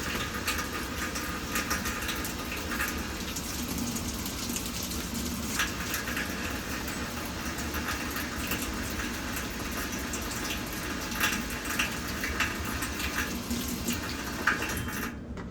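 Water runs steadily into a newly installed washing machine, a constant broadband rushing like a tap filling a tub, holding level from start to finish with no voices.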